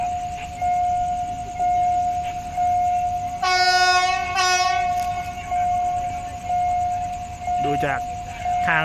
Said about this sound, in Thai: ฟังจากเสียง ทั้งเสียงรถจักรเสียงเครื่อง กั้น เนี่ย ไม่น่าจะ ไม่ได้ยินนะครับ